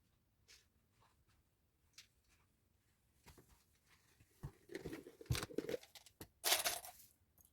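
Scissors cut through two pinned pieces of fabric, with faint, sparse snips at first that grow into closer, louder crunching cuts near the end, with no talking.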